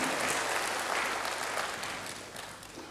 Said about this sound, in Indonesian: Berikan tepuk tangan hebat bagi Tuhan